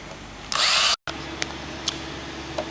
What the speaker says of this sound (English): pre-drill the rest of our holes.